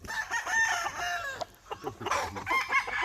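Gamefowl stag roosters at a game farm crow and cluck close by, with repeated crows overlapping a steady busy background of clucking from several birds.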